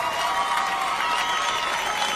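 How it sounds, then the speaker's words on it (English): Audience applause and cheering at a Sanshou versus Muay Thai fight for the challenger Kongnapa, a dense, steady wash of clapping from a large crowd filling the whole moment without pause. "please, a big round of applause for Kongnapa"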